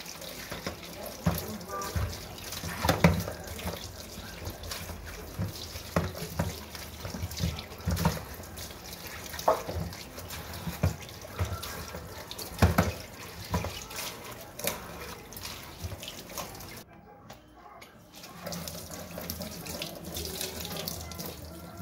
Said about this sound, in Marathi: आता सगळी भाजी धुवून घेतली मी